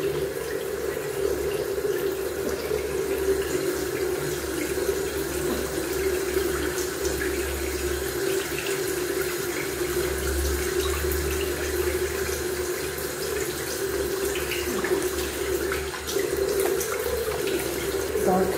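Water runs steadily from a bathroom tap during an evening face wash, a close, continuous splashing flow into the sink with no break for the whole stretch.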